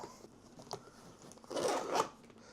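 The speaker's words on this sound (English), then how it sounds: "And then you zip this up." A zipper pulled closed on a Litheli FrozenPack backpack-style 12V car fridge, a soft scratchy rasp that swells into a louder burst near the end, close by with no talking.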